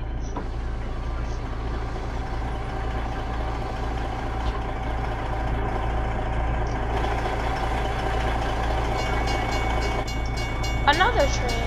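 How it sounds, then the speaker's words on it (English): A train passes by with a continuous low rolling rumble that holds steady throughout, heard from a waiting vehicle, with a brief higher tonal sound near the end. "Another train."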